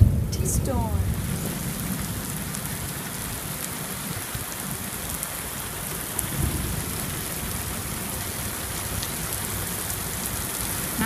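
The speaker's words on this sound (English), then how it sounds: "Just a little bit of T-storm." A thunderstorm during the 2016 West Virginia floods, heavy rain hissing steadily on surfaces with low rumbles of thunder rolling underneath throughout.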